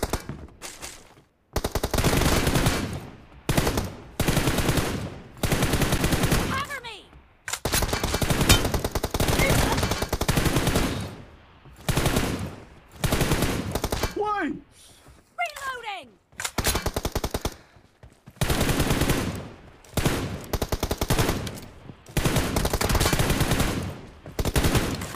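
Bursts of automatic gunfire from a Free Fire battle, loud and dense, coming in repeated rapid volleys separated by short pauses, with a few brief gaps of quiet.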